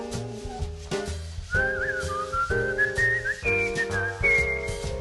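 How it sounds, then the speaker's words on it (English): Someone whistles a lilting melody over a gentle instrumental accompaniment, the notes clear and close. "I'd whistle a little tune for you."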